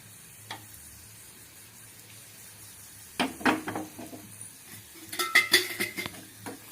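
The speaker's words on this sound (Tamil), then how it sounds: "பெருங்காயம் நல்லா பொரியுது" Asafoetida dropped into hot oil in a pan while making murungai keerai (drumstick leaf) powder: quiet at first, then metal ladle clinks against the pan and a soft crackle, with a cluster of sharp knocks and scrapes near the end.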